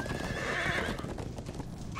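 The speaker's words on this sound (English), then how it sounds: "Get the horses." Horses in the Minecraft Story Mode video game whinny loudly over a steady clatter of galloping hooves, with a busy game soundtrack underneath and a short high call near the end.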